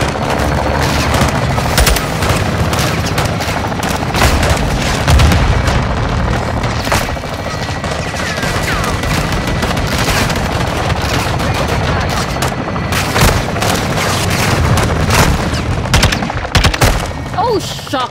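Intense battlefield din from Call of Duty Modern Warfare 2 (2022), with heavy booms, rattling automatic gunfire and explosive impacts layered continuously and loud, and voices talking over the chaos.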